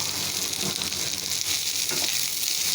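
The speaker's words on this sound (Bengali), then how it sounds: "আমি যে পেঁয়াজ দিয়ে দিলাম, আর একটু তেল দিয়ে দেবো আমি, অল্প তেল দিয়ে" Onion fries in a small amount of oil for a dried fish mash, producing a loud, dense, continuous sizzle close up with faint stirring movement underneath.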